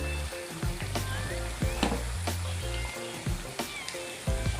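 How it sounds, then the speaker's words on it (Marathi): Sabudana vada deep-frying in hot oil, a steady close sizzle and bubbling with occasional sharper crackles and pops, no talking. "वड्याला आपण जाळायचं नाही जास्त, फक्त त्याला लालसर होईपर्यंत ना तळायचे आपल्याला"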